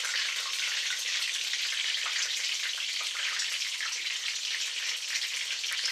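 Torrijas, bread slices soaked in milk and egg, sizzle in a pan of hot oil with a steady, bright crackle that holds evenly throughout, close by and with no talking.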